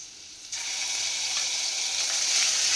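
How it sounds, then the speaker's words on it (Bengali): Chopped ginger and garlic hitting hot oil for chilli chicken start a sudden, loud, steady sizzle that holds evenly and close by to the end, with no talking over it. "এবারে আমি তেলের মধ্যে দিয়ে দেব আদার কুচি আর রসুন"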